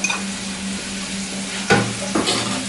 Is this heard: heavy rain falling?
no